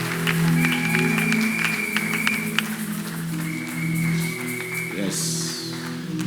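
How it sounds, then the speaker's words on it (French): A church congregation applauds during a service, steady clapping running under sustained musical tones and voices throughout. "Acclamons fortement le Seigneur"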